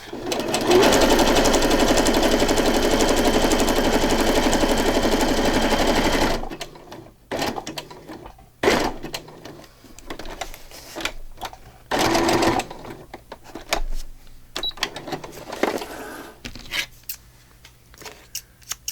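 A sewing machine runs steadily for about six seconds stitching a wide zigzag onto a coffee-and-chocolate themed paper journal page, then stops, leaving only scattered handling noises and short bursts.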